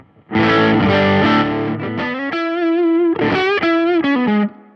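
An electric guitar plays loud sustained notes and bends through a Fender Mustang GTX50 combo amplifier with built-in effects, heavily distorted and processed, with no voices over it.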